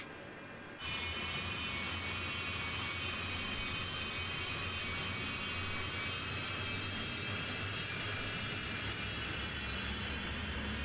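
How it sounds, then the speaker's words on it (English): Airplane engines start up abruptly and then hold a loud, steady roar with a high whine for takeoff. The sound is close and continuous, and nobody talks over it. "Prepare for takeoff."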